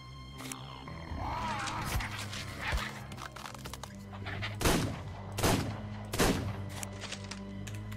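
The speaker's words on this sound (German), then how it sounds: "Zwei Schüsse, glaube ich." Gunshots in the video game ARK, several sharp cracks spaced a few seconds apart over a busy ambient game background with animal-like calls, fairly loud and not overlapped by talk.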